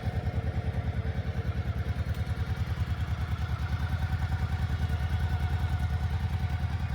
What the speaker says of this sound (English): and there it is. My 1990 Honda PC800.